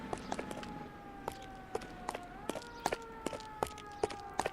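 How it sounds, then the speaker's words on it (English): Police sirens wailing at a distance in the L.A. Noire city, long steady tones drifting in pitch, with regular footstep taps of a character running through them. "sirens sound so whiny"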